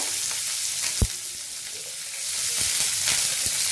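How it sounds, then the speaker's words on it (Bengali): Capsicum frying in a pan for soya chilli, a steady bright sizzle throughout with one sharp clink of a utensil and a few soft stirring knocks. "আর ক্যাপসিকামটাও দিয়ে দেবো। এটাও এখন ভালোভাবে ভেজে নেব।"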